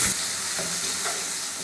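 Tomatoes with rock salt sautéing in a hot pan for horsegram kulambu, giving a steady close sizzle and hiss with faint stirring scrapes, no voices.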